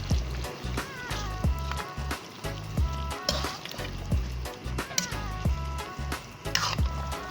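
Chicken kaldereta sizzling in a pan while being stirred, with steady frying hiss broken by rhythmic scraping and clanking strokes of the utensil, close and loud, no talk.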